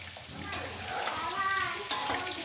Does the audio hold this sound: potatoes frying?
yes